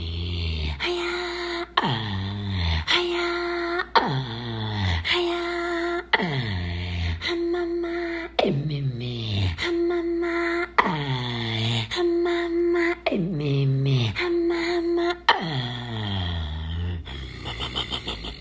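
A human voice imitates the breathing of running reindeer, as done by northern minority peoples: rhythmic, strained breathy pulses with voiced tones, repeated about a dozen times at a steady pace, close and fairly loud throughout.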